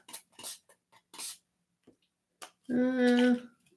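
Two short, airy spritzes of shimmer spray misted onto an altered mixed-media book page, separated by quiet, followed by a voice humming.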